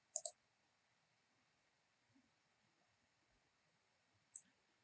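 Sharp computer mouse clicks, a quick double click near the start and a single click about four seconds later, each brief and close against near silence.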